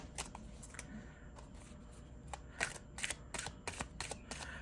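Tarot-size oracle cards shuffled overhand, a series of crisp papery snaps and riffling flicks in uneven bursts, close to the microphone with no talking.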